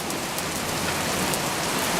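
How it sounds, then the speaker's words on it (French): Hail pelts down in a dense, steady roar of tiny impacts, loud and continuous throughout, with no voices. "La grêle, la grêle."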